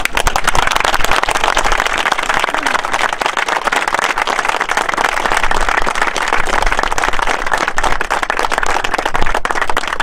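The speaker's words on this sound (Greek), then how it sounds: "Και ένα χειροκρότημα για το Σάκη." A crowd applauds steadily at a celebration for a Greek amateur football club in Argolida that has just won its A2 championship; the dense clapping is loud and continuous throughout, with some voices mixed in.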